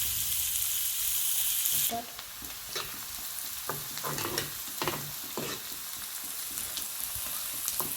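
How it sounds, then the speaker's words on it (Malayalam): Chopped onion and green chili sautéing in hot oil for a chapati egg roll filling, a close, even sizzle with a louder burst as they hit the pan, then repeated spatula stirring scrapes, no voices. "സവാളയും പച്ചമുളകും കൂടെ ചെറുതായിട്ട് അരിഞ്ഞത് ചേർത്ത് വഴറ്റാം."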